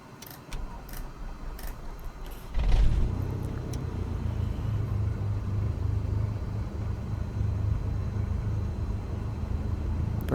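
A small single-engine propeller aircraft engine cranks and catches, then settles into a steady, loud droning idle with a low throbbing rumble that continues unbroken to the end.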